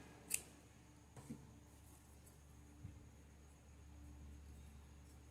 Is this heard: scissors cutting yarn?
yes